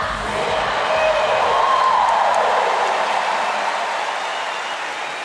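A large crowd in a Paralympic swimming arena cheers and roars with rising excitement around a countdown, a broad sustained swell of voices that peaks early and then slowly eases off, with no clear individual speech.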